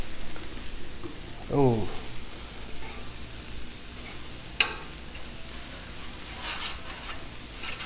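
Grease and spicy Italian sausage sizzle on a Blackstone griddle in a steady, moderate hiss, with a brief clatter early on and a sharp tap midway.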